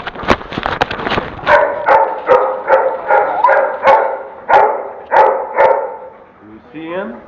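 During a training session, a dog barks in a rapid series of sharp, loud, close yaps at a steady rhythm, ending in a brief whine.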